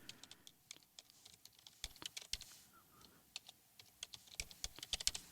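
Rapid keystrokes on a computer keyboard while an email address is entered, a steady run of close, crisp clicks with brief pauses and no talking.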